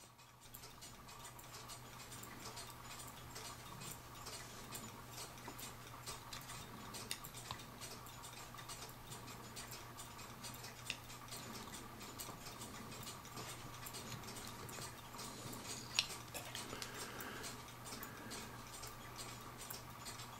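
A wooden cuckoo clock with dancing figures ticks steadily and mechanically, its gears whirring faintly, a close, quiet, even rhythm continuing throughout.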